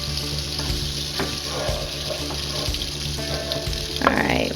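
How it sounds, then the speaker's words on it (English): Butter melting in a pan for French onion soup gives a continuous crackling sizzle, close and fairly loud, with a few clinks and a brief louder hiss near the end. "Listen to that sizzle."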